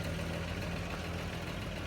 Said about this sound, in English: Silky smooth 3-litre engine.